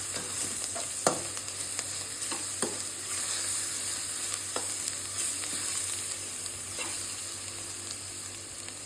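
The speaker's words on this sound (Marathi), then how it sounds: "यामध्ये मी टाकते लसूण पेस्ट थोडीशी. ते पण आपण परतून घेऊ" Garlic paste sautéing in a hot pan, a steady close sizzle and hiss with a few sharp pops and spoon scrapes scattered through, no voices.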